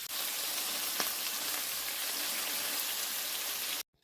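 Beef patties frying in a pan, a dense, steady crackling sizzle close up, stopping abruptly at the end.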